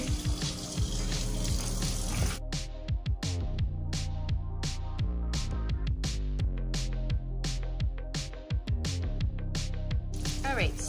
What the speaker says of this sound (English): We'll use our little hose that we have in our sink, and it works perfectly fine.